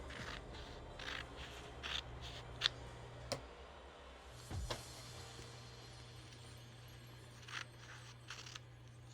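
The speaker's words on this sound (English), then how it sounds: "Just going to cut this little piece" Scissors cut a small piece of fabric during a sashiko mending repair, making a few faint, sharp snips scattered across a quiet room with no talking.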